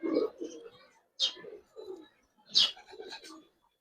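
Giribaz pigeons coo in several short bursts, with a few soft chirpy notes between them, fairly close and with no voices over them.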